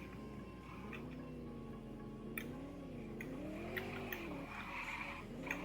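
Tires of a tuned BMW G80 M3 squeal and skid on a racetrack, the wavering screech riding over a steady engine drone for several seconds, close and fairly loud.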